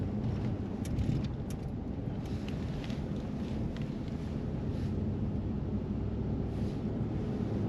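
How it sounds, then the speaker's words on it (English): Steady wind blowing across an exposed hilltop at an old oilfield dating from 1915, a constant low rushing roar with gentle buffeting against the microphone and no voices. "The wind just doesn't know what it's doing up here."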